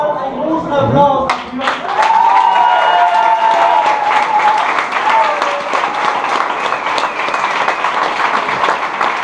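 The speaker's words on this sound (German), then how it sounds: "Einen großen Applaus." A crowd at an amateur boxing fight night applauds loudly and continuously, the clapping blended with cheering voices, whistles and an announcer speaking over the noise in the venue.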